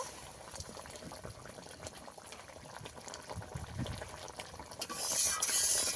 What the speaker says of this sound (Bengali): একসঙ্গে জলের মধ্যে দিয়ে কিছুক্ষণ ফুটিয়ে নেব